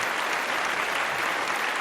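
An audience at a children's quiz session in a temple community hall applauds the kids who solved a word puzzle; an even, unbroken patter of many hands clapping, moderately soft and steady, with no voices over it.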